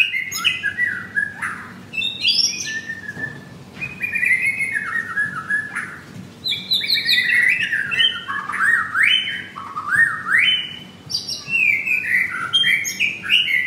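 Several caged white-rumped shamas (murai batu) at a bird shop in Kemayoran sing continuously, loud and close, with varied whistled phrases, rapid chirps and squawky notes rising and falling in overlapping bursts, and no talking.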